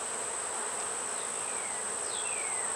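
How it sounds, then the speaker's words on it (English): Honeybees at feeders buzz in a steady, busy drone, with individual bees whining past now and then against a constant high hum. "Bees are working it over real hard."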